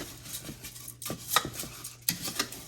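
Cilantro lime rice mixed in a pot, a series of sharp scraping and tapping knocks from a utensil against the pot, close and moderately loud, with no talk.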